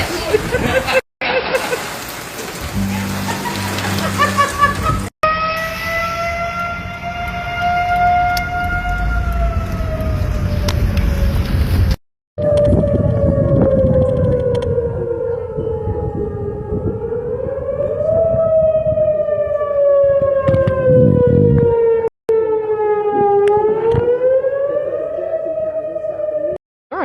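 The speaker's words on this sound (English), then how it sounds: "Tornado sirens are going off." Outdoor tornado sirens wail across an Illinois sports park during a storm, loud and sustained, with long rising and falling tones over steady wind-like rumble and a few abrupt breaks.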